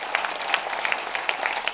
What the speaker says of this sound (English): Round of applause for all of you.